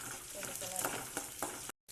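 Small shallots frying in a pan for cabbage stir-fry, a close, steady sizzle with a few light stirring scrapes, ending in a brief cut to silence.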